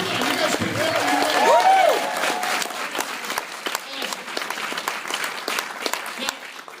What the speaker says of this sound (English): come on, you guys can clap for your